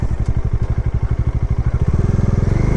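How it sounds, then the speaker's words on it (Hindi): A motorbike rides along a rough path near Garhkundar Fort, its engine close and loud with a fast, even pulsing thump that quickens slightly toward the end, with no talk. "हम बाइक से हैं और बाइक यहाँ से थोड़े से आगे जा पा रही है"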